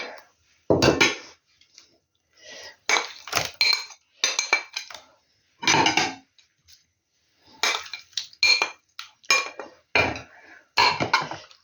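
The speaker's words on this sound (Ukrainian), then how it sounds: "Так, перемішаю гарненько, щоб він там перемішався добре" A spoon stirs jelly cake mixture in a bowl, making repeated clinks and scrapes that come in short bursts separated by brief pauses, close and clear.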